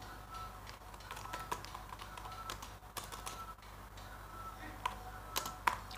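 Keys clack on a computer keyboard as text is typed into an OpenOffice sheet, a sparse, faint patter of separate taps with a few sharper strokes near the end, over a quiet room hum.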